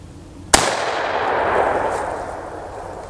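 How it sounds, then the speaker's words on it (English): A single sharp gunshot from a short-barreled gun fitted with a muzzle brake cracks out loudly. A long reverberant ring follows and fades away over a couple of seconds. "I think this with the muzzle brake is actually a little bit louder."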